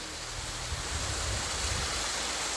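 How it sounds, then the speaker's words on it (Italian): A mountain waterfall swollen by the previous day's rain roars with a continuous, dense broadband rush of falling water, loud and steady without any pauses. "Ecco la cascata"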